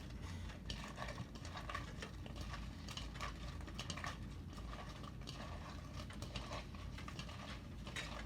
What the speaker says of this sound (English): add your cauliflower to the batter